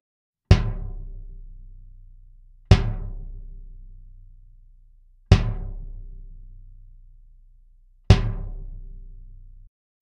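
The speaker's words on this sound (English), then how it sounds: "the drum kind of takes on a basketball-like characteristic. It kind of pings the high frequency from the attack." An unpadded Ludwig bass drum with a hard lacquered interior is struck four times at slow, even intervals, each hit a sharp attack with a ringing, pinging decay, close and alone.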